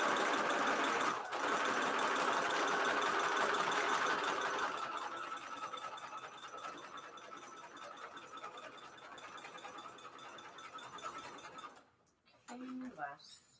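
A sewing machine stitches a fabric journal cover in one long, loud whirring run that slows and fades near the end, followed by a brief voice.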